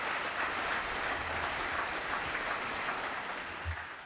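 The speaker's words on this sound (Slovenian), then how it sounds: "Zato predlagam najprej en aplavz za mizo" A crowd gives steady, dense applause for the party leadership at an open-air traditional Slovenian People's Party political rally, unbroken clapping throughout with no voices over it.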